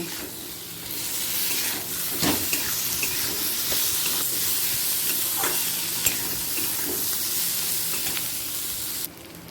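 Coconut, cashews, raisins, green chili and tomato frying in a pan for a Bengali chickpea dal, a steady bright sizzle with occasional stirring scrapes and clinks throughout.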